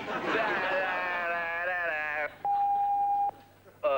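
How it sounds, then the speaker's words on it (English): An answering machine gives a single steady electronic beep after a recorded outgoing message in a 1991 comedy sketch. The beep is clear and sustained for about a second, follows a stretch of talking, and another voice starts just after it. "leave me a message after the tone"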